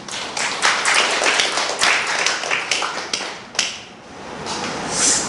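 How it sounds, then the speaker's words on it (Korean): Applause from the audience at a poetry recital greets a guest poet who has travelled a long way, a dense patter of many hands clapping steadily for several seconds before thinning and briefly swelling again. "먼 길 오셨으니까 박수 한번 크게 보내주세요."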